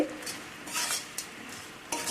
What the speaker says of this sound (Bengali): এইভাবে নাড়াচাড়া করতে হবে নাড়াচাড়া করব